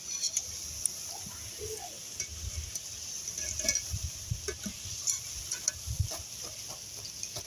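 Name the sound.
rice pakoras frying and being stirred in oil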